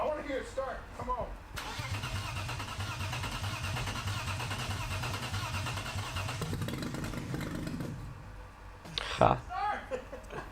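A junkyard BMW engine, fueled-less, cranks over on the starter in a long steady churning run, close and loud, with brief talk before and after.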